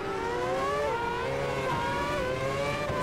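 Formula Reiza open-wheel racing car in Automobilista 2 around the Monaco circuit, its engine screaming loud and continuous with rising and falling pitch through gear changes and revs.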